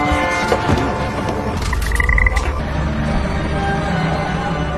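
A frog croaks repeatedly in a film scene, its calls blended into a dense, steady bed of soundtrack ambience.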